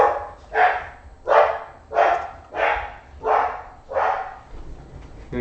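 A dog barks at a passing mail truck at home, about seven loud, close barks in a steady rhythm, each roughly two-thirds of a second apart, with no voices.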